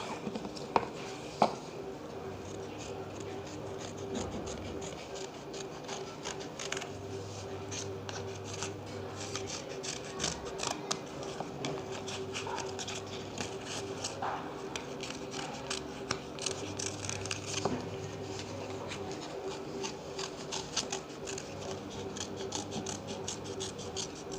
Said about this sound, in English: Now just trace the heart inside this, and just cut it.